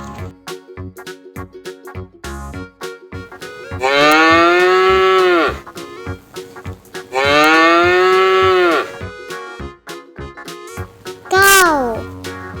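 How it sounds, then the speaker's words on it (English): Two long, loud cow moos ring out one after the other over a light musical backing, followed by a short spoken word at the end. "Cow."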